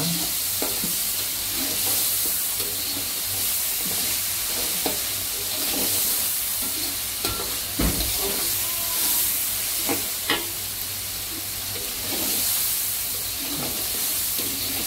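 Aceh-style duck curry mixture stirred in a hot pan, a steady loud sizzle and frying hiss throughout with scraping spoon strokes and occasional knocks against the pan.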